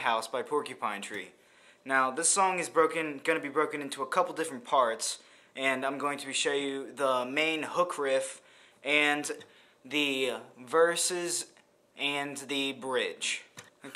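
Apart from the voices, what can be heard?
No distinct noise like a dog, phone or traffic.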